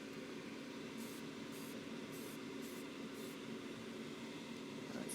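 A sandblaster spraying to carve stone gives a series of short, sharp bursts of hissing air, about five in quick succession, over a steady low background hum.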